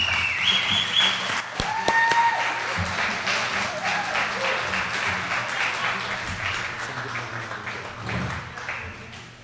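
An audience applauds steadily for about nine seconds to welcome Dr. Adamson at a Vietnam Veterans Day event aboard the USS Hornet. The dense clapping holds at an even level, with a few brief tones and some background murmur mixed in.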